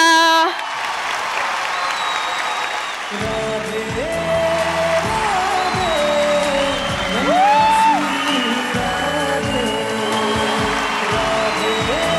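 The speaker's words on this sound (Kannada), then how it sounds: "ನಿಮ್ಮೆಲ್ಲರ ಜೋರಾದ ಚಪ್ಪಾಳೆಯೊಂದಿಗೆ ಸ್ವಾಗತಿಸಿ" A studio audience at a comedy show claps loudly and cheers to welcome a TV serial couple on stage. The dense applause runs throughout, and bright stage music joins a few seconds in.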